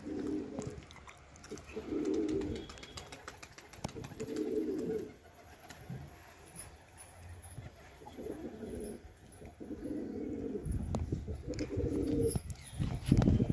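Pigeons coo repeatedly in a rooftop loft where many birds are perched, the low rolling calls coming in regular bouts at moderate distance amid light background noise.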